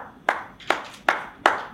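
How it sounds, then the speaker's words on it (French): Four evenly spaced hand claps ring out, close and crisp, each with a short echoing decay; a single person clapping rather than a crowd, during a speech. "peuvent se matérialiser par des applaudissements."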